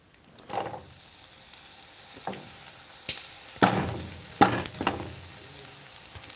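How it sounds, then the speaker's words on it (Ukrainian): Eggs sizzle quietly in pork fat in a hot pan, with a few louder scrapes and clinks of stirring breaking through the soft frying hiss. "Бачите, як воно шкварчить."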